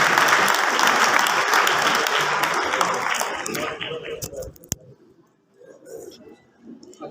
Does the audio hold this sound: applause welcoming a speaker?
yes